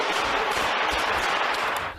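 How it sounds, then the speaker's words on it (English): Gunshots fired inside a warehouse, a rapid burst of loud echoing cracks packed closely together and ringing off the enclosed space, with no talk. "As the shooter fires rounds in the warehouse, the police confront him."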